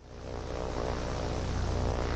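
Propeller airplane engine droning steadily in the Chicken Gun video game, a continuous loud hum with a low harmonic buzz holding for about two seconds with no talk.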